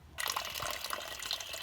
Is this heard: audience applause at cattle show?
no